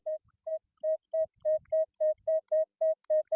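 A metal detector sounds beside a freshly dug hole, giving a steady series of about twelve short, evenly spaced mid-pitched beeps, clear and close, with faint scraping between them.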